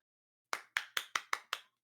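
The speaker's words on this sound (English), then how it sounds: "Clap, clap, clap, clap." Hands clapping six times in a steady, quick rhythm after a moment of silence, each clap sharp and close with a short decay, at the end of a collegiate League of Legends match.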